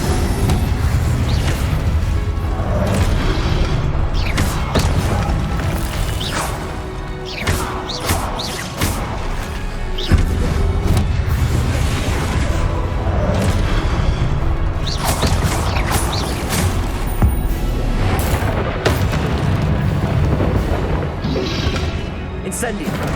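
Incendio fire spell cast over and over during Hogwarts Legacy combat, loud fiery bursts and booming impacts layered with clattering battle effects and constant game sound, with a voice calling out in between.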